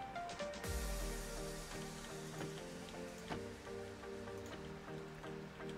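Steady rain in Minecraft patters and hisses continuously, with scattered drops tapping over a soft background of tones.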